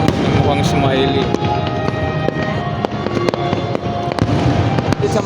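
Fireworks from an Italian team's display at the Philippine International Pyromusical Competition burst continuously in loud, dense cracks and booms, with voices talking nearby under the blasts.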